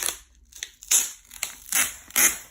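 iPad 6 box packaging is pulled open in a quiet room, giving several short crinkling, tearing rustles of cardboard and plastic in uneven bursts, close up.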